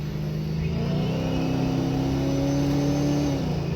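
Supercharged Pontiac G8 engine at wide open throttle, a loud, steady mechanical roar with a rising whine from the blower as revs climb, then a brief dip near the end as the automatic upshift kicks in, heard without talking.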